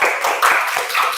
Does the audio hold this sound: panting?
no